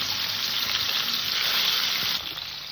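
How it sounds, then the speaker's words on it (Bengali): Shol fish (snakehead) sizzling in hot oil in a kadai, a steady, dense crackling hiss that stays loud and even, easing slightly near the end, with no voices. "তেলটা গরম হয়ে গেছে আমি মাছগুলো ছেড়ে দিলাম"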